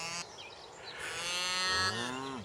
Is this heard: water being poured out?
no